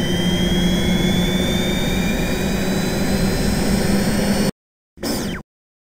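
Software-simulated jet turbine engine roaring with a steady, dense whoosh and rising high whine, loud and close, then cutting out abruptly before a brief final burst and silence.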